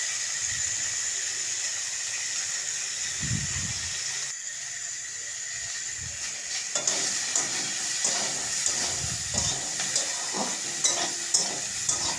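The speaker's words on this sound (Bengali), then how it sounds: "তেলে দিলাম আলু ক্যাপসিকামটা ভেজে নেব" Potato and capsicum pieces fry in oil with cumin, green chilli and bay leaf, giving a continuous sizzling hiss. Scraping stirs come and go early, then clattering utensil stirring grows busier and louder later.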